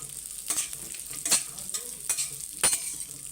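Raisins frying in hot ghee in a kadhai: a soft sizzle broken by a few sharp scraping stirs of a spoon against the pan, close and with no voices.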